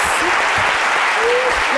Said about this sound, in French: On va applaudir très très fort.